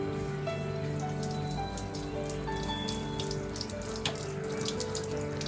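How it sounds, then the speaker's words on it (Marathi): Hot water from boiled noodles pours steadily through a strainer into a sink, a continuous close splashing and trickling that runs unbroken throughout. "नूडल्स बॉईल करून झाल्या की आपल्याला त्या चाळणीतनं ते गरम पाणी सगळं काढून घ्यायचं आहे"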